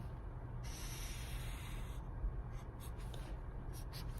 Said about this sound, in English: So I'm going to draw out my number line.